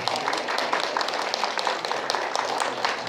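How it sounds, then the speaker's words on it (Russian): An audience applauds at a ceremony honouring a Chernobyl radiation-accident liquidator: a steady, dense wash of many hands clapping that carries on evenly for a few seconds. "Ваши аплодисменты!"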